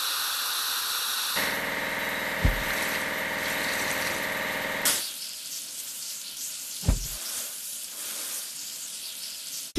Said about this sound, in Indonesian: Ayo cuci. Mobil pemadam kebakaran.